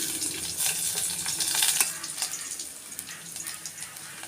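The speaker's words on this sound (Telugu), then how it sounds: "దీనిలోనే కొంచెం ఆయిల్ పోస్తున్నాను. సరిపోతుందండి, ఒక 2-3 స్పూన్లు, ఎక్కువ వద్దు. దీనిలోనే ముందుగా వెల్లుల్లిపాయలు వేస్తున్నాను." Garlic frying in two to three spoons of hot oil in a pot, a soft steady sizzle and crackle, fairly quiet and continuous with no talk.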